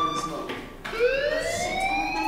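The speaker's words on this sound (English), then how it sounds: "do you hear that fire alarm? That means you should be outside." A fire alarm sounds in the video game Life is Strange, a steady rising electronic wail with bright overtones that sweeps upward partway through, continuous and moderately loud.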